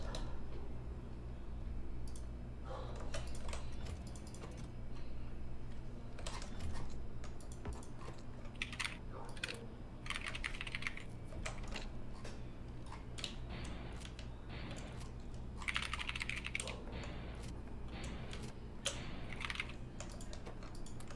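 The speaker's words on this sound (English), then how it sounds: "I'm gonna type something to you, Destiny." Typing on a computer keyboard, with quick irregular key clicks that come in bursts and short pauses and sit close to the microphone, with no talking.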